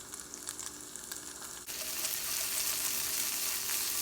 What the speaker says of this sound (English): Going to toss them all in that butter.